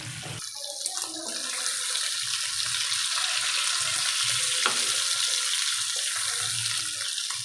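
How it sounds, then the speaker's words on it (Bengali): Hilsa fish frying in a pan for a Pohela Boishakh meal, giving a steady close sizzle and crackle throughout with faint stirring scrapes, no voices. "মাছটা ভাজা হোক"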